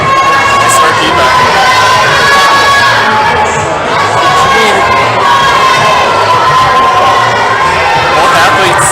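A crowd at a provincial top rope climbing competition cheers and shouts loudly and continuously, with high children's voices whooping through the roar.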